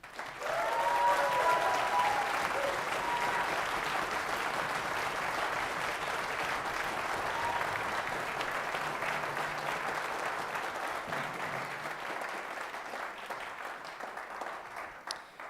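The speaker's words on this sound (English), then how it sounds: "a huge shout out and applause for these wonderful educators and leaders" Audience applause for educators and leaders at a school band event, a steady, full wash of clapping from a large crowd that holds for about fifteen seconds, slowly thinning toward the end.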